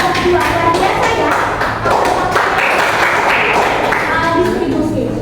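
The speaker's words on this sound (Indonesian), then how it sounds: "tepuk tangan dulu untuk kelompok 2" Classroom applause for a student group during a teachers' lesson, a loud, continuous burst of many hands clapping with tapping and thumping, while voices talk and call out over it.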